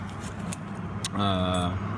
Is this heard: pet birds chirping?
no